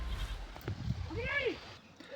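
Sheep and goats bleat in a village farm setting, a faint wavering bleat rising and falling over soft rustling and low background murmur.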